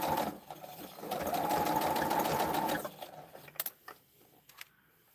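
Sewing machine stitching drunkard's path quilt pieces, a steady fast whir for nearly three seconds that then stops, followed by a few scattered clicks and handling sounds.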